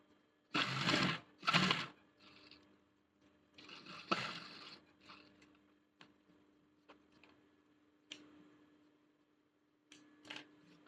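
A sewing machine stitches a school uniform collar in short bursts, with two loud runs early on, then a longer one and scattered clicks and brief stitches as the fabric is adjusted between them.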